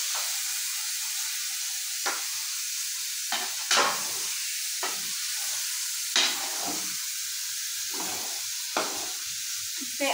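Continuous hissing sizzle of peas and potatoes frying in a pan, broken by periodic scraping stirs every second or two; no one speaks.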